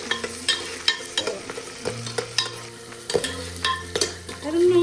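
Onion and garlic fry in hot oil for a vegetable biryani, crackling and popping in quick irregular bursts over a continuous sizzle, with stirring scrapes and a low steady hum close by, no voices.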